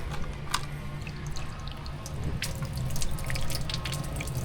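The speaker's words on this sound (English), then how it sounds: "it's pretty good flush." A homemade 3D-printed toilet flushing with a siphon, water rushing and gurgling steadily at moderate level with small splashes and drips, growing slightly fuller toward the end.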